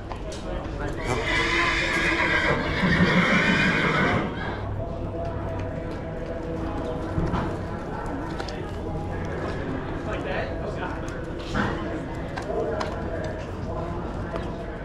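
At a horse auction, a horse whinnies loudly and close by, and hooves clop at a steady pace; people talk in the background.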